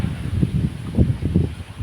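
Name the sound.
wind blowing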